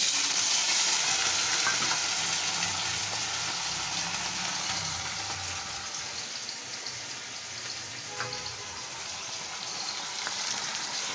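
Small diced potatoes frying in hot oil in a pan, a steady dense sizzle running throughout with occasional stirring scrapes, close and fairly loud, no voices.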